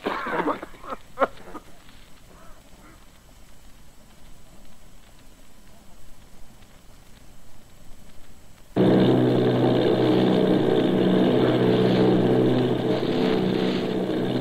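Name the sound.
bombing plane engine sound effect in radio drama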